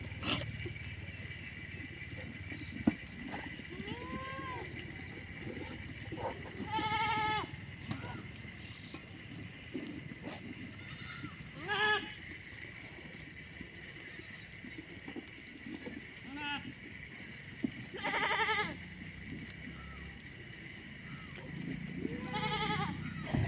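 Goats on a dusty, dry-ground farm bleat repeatedly, with several wavering calls spread across the stretch. Some are near and loud, others softer, over a constant background hum and occasional low rustling.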